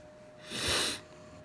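A single short, breathy sniff from a person with a cold rises and fades in under a second, close to the microphone against a quiet background.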